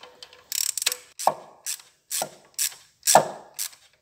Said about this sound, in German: Jetzt müssen wir sozusagen die Schraube noch reindrehen und dann ist der Nockenwellensensor an sich wieder fest.